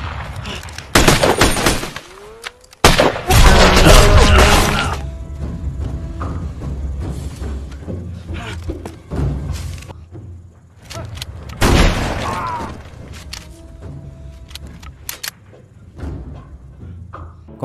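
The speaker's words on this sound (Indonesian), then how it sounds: "memicu baku tembak yang merenggut nyawa petugas yang tersisa" Bursts of gunfire in a film shootout between cartel gunmen and officers, loud cracks and booms clustered early, with scattered later shots under dense action-scene noise.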